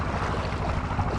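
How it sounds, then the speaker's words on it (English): Water pouring out of a tube into a recharge basin during a clogging test, a steady close rushing wash with a low rumble that holds constant throughout, with no voices. "This is the tube where the water flows out."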